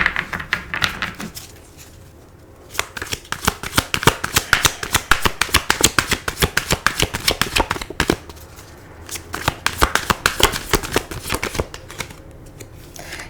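Tarot cards being shuffled in a steady run of close, crisp riffling flutters, pausing briefly twice before resuming, with no talking over it.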